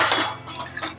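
A lid clatters onto a pot of green corn chevdo, a short burst of metal clinks and scrapes from cookware up close, with no talking.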